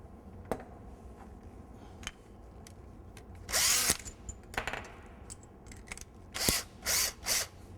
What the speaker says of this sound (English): Mount this special screw, and it's or this special bit, and drill out these two holes.